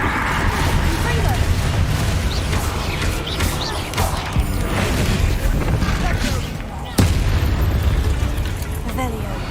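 Confringo blasting spell explosions in the Hogwarts Legacy video game: repeated booming bursts over a dense, continuous roar of game effects, with a sharper blast near the end and speech mixed in.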